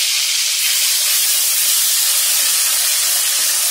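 Chili paste hits hot oil for Malvani-style vada pav, setting off a loud, steady, close sizzle of hissing crackle that runs unbroken throughout.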